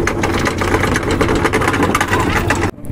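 Boat engines run steadily and close by just after undocking, port and starting engines going at once, a loud continuous mid-pitched drone that cuts off abruptly near the end.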